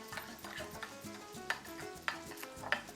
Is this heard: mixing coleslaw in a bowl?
yes